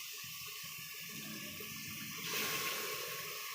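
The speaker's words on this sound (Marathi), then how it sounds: "मसाल्याचं जे वाटलेलं पाणी आहे ते याच्यात टाकून देऊ" Ground spice water poured into a cooking pot of cowpea curry, a steady close splashing pour that grows louder and brighter midway through, with no talk.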